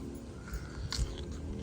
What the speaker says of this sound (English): Eat it raw. It's a big crunch.